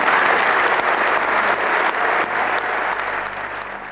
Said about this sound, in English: The round of applause by participants was non-stop after each sentence.